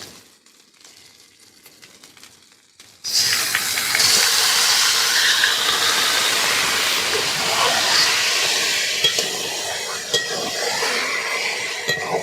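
After a quiet start, Bombay duck (lote fish) hits hot spiced oil with a sudden loud, close hiss that settles into a sustained, crackling sizzle lasting to the end.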